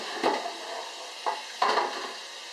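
A metal roasting pan is picked up and set down in a kitchen while a leg of lamb is being prepared, making three short clanking knocks with faint background hiss between them.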